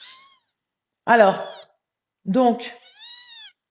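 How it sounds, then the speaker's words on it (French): A cat meows several times in short, clear, close cries separated by brief pauses, while someone speaks French in the same room. "je suis désolée, c'est mon chat qui me perturbe."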